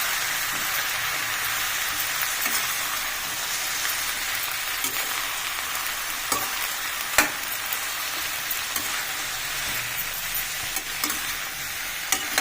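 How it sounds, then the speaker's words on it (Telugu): Eggplant pieces stirred and frying in a pan, a steady broadband sizzle throughout with occasional soft clicks and scrapes of a utensil, close and moderately loud, no talking. "వంకాయలు వేసుకొని కలుపుకోవాలి. ఇట్లా కలుపుకోవాలి."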